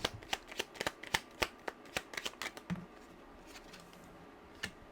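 Tarot cards shuffled and pulled from a deck, a run of quick, crisp close-up slaps and flicks in an uneven rhythm that thins out, leaving one last snap after a short pause.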